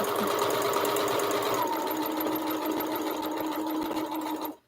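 A sewing machine runs a quarter-inch seam down a quilt block, its motor whirring steadily and close by for several seconds before stopping.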